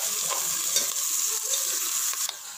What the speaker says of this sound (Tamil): இப்போது இந்த புதினா, கொத்தமல்லி அதையும் இதில் போட்டு நல்லா வதக்கிடுங்க.